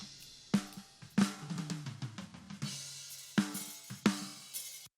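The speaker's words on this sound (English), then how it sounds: "So we have a snare drum here, a snare drum top and bottom, which on its own sounds like this." Several sharp snare drum hits, played alone at an irregular pace, each crack ringing briefly before fading.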